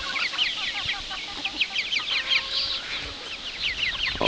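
Cornish and bantam chickens clucking in a backyard flock, a steady run of close, busy clucks and short calls from several birds, with no talking.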